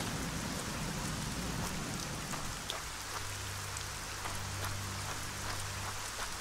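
Heavy rain falls continuously in the video game Arcania: Gothic 4, a thick broadband hiss with a low rumbling hum joining partway through.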